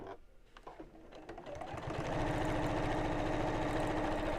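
A sewing machine stitches a bowling bag, starting with a few clicks and short bursts, then running in a fast, even, continuous whir close up.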